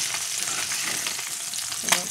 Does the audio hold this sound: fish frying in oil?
yes